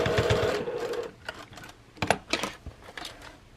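A sewing machine stitches over existing seam stitching on a fabric eyeglass case, a short steady run followed by a few separate clicks and knocks as it back stitches and stops.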